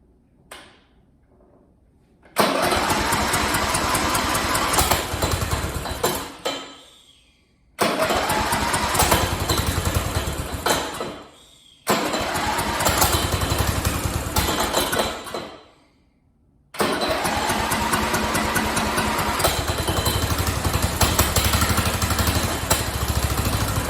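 An old riding mower engine cranks and fires in repeated bursts, each run a loud, rough, close roar that cuts off into silence before starting again, four times in all.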